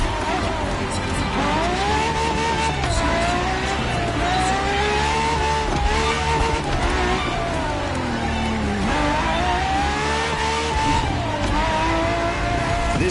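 Ferrari FXXK, a supercar used as an R&D test car, revs hard through a racing video game lap, its engine pitch rising and falling through repeated gear changes with occasional tire squeal while a voice talks over it.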